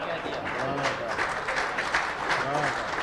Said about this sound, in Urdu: اکثر مشاعروں میں اب یہ تالیاں بجنا ایک رواج ہو گیا ہے